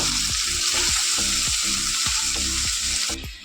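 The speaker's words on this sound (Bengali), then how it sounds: "বাকি যেইগুলো আছে সেগুলোকেও একই রকম করে ভেজে নেব।" Small bele fish fry in hot oil with a loud, dense, continuous sizzle and crackle, close up, with rhythmic stirring or shifting in the pan, fading slightly at the end.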